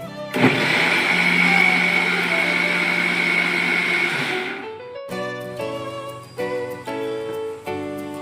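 A kitchen mixer grinder blends egg, sugar and ghee for a homemade cake batter, whirring loudly and steadily for about four seconds, then stopping; a short stretch of tinkling, bell-like tones follows.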